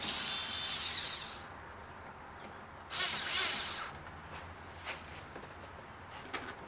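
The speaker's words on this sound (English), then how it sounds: "I'm just going to start these Torx screws to kind of be like an extra hand for us" Power drill starting Torx screws into the rear bumper cover of a 2008 Jeep Grand Cherokee, two separate bursts of whirring, the first about a second long and the second shorter after a pause, close and moderately loud with faint clatter between.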